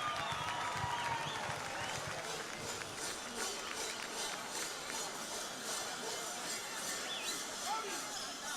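An outdoor audience at a live event in Samugheo applauds in a steady, moderately distant wash of clapping that holds for several seconds, with some crowd voices mixed in.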